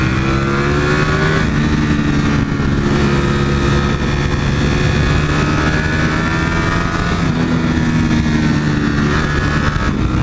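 A vehicle engine accelerating hard in its lowest gear, loud and continuous, with pitch sweeping upward in repeated rising runs and no talk over it.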